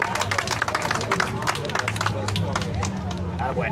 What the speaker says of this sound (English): So everybody, a round of applause for Jeff.